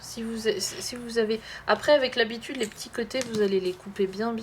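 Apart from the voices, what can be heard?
No everyday noise stands out behind the speech.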